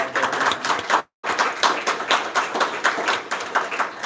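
Panel discussion audience applauding the panelists, a close, lively patter of many hands clapping continuously with a brief cut partway through, then carrying on at full strength.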